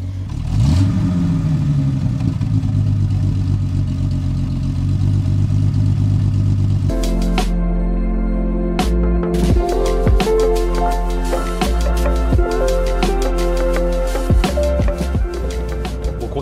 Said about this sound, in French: on fait rugir le 6 cylindres de la TR6